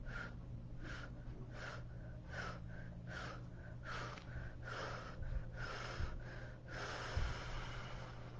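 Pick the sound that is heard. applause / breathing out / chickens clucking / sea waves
breathing out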